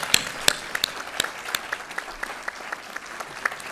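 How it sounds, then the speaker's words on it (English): An audience at a science report card release event applauds a teacher who has just been asked to stand: scattered, uneven handclaps, some sharp and close, carrying on steadily without fading. "Give that lady a round of applause."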